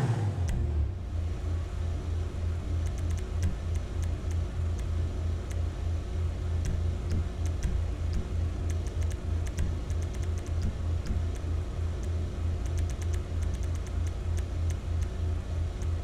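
Nissan GT-R, the Elegy RH8 in GTA V, modded and driving, with a steady low engine rumble and occasional revving, continuous and fairly close, with no talk.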